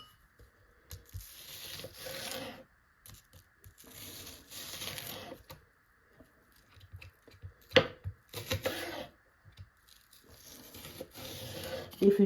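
Knife chopping shallot strips on a board for a stir fry, bursts of rapid close-up cutting and scraping separated by pauses, with occasional louder knocks.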